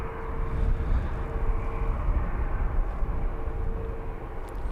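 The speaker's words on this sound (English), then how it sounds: "As we can see out there in the distance, our next Wizz Air arrival." A Wizz Air airliner arriving at London Luton Airport in the early morning, a distant, steady low rumble of jet engines, faint and continuous, with no talk.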